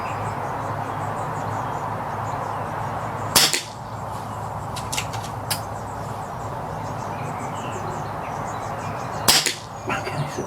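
An air rifle firing H&N Baracuda 8 pellets outdoors gives two sharp, loud cracks about six seconds apart, with fainter clicks between them, over a steady quiet background.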